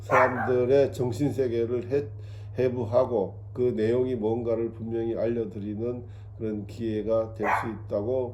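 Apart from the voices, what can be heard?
dog barking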